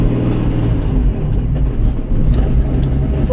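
A supercharged Nissan 350Z cruises in fourth gear with a steady, loud engine drone and road rumble, a faint transmission rattle buried in the continuous noise.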